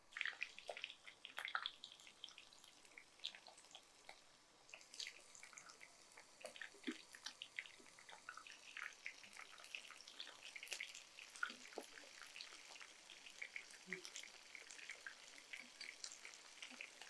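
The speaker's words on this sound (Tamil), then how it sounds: "இதை நம்ம ஒன்று ஒன்றா போட்டு பொரிச்சு எடுத்துடலாம்" Marinated prawns deep-frying in hot oil for chilli prawn vada, a faint, steady crackle and sputter with scattered small pops, with no talk over it.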